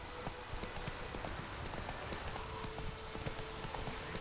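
Hooves of Geralt's horse Roach in The Witcher 3 clopping at a steady gallop, a continuous rhythmic beat under a dense ambient wash of rain-like game atmosphere, no voices.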